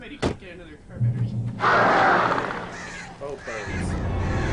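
Crows caw in the Alan Wake video game, a loud raspy burst mixed with thuds and game noise, and a voice speaks briefly at the end.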